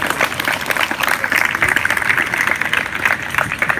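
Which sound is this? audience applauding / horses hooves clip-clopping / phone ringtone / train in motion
audience applauding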